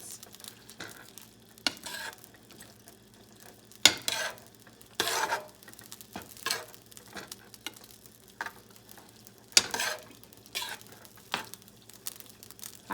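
Minced onions stirred in a pan over medium heat give soft scraping, clicking stirs in irregular bursts over a faint sizzle, fairly quiet and close, with no talking.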